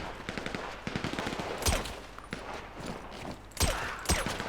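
Bursts of automatic gunfire in GTA V, during a zombie-city survival session, with rapid rattling volleys and sharp louder shots near the middle and end, dense and continuous throughout.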